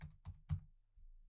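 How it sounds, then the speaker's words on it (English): Three quick soft keystrokes tap on a computer keyboard while a number is entered into a duration field, close and faint, with no voices. "where it says duration, we're just going to type in"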